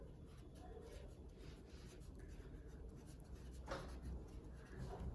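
A sketch pen scratching across paper while a heading is written on a geological timeline, quiet and close, with soft uneven strokes and brief pauses over a faint background hiss.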